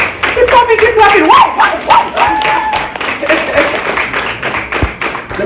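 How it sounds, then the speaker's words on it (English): Loud, sustained clapping from an audience at an indoor networking expo in Toronto, with a voice talking and calling out over the applause. "Keep clapping, keep clapping."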